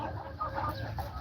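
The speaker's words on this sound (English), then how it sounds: "That's chicken." A farm chicken clucking nearby, a short burst of a few soft, quick clucks over faint background noise.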